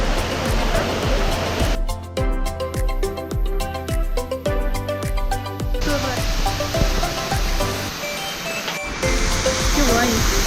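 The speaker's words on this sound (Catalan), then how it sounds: "Això és la cascada de la Ratera" The Ratera waterfall in the Pallars Sobirà mountains rushing in a steady, broad roar, with music playing over part of it and a voice talking at times.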